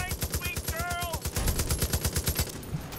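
M60 machine gun in Far Cry 5 firing a long rapid automatic burst of evenly spaced shots, loud and close, with brief game voices in the middle.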